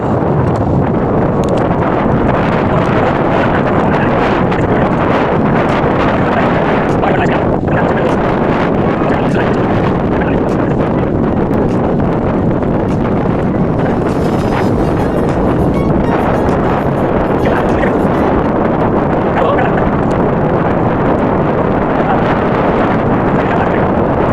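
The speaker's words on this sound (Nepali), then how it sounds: "यस्तो हावा चल्छ" Strong sea wind on the UAE coast roars and buffets the microphone without a break, with a low rumble like surf beneath it.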